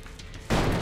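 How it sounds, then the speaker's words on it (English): A single loud shotgun blast in the video game Elex II bursts in abruptly after a quiet moment and rings on briefly. "You're dodging shotguns."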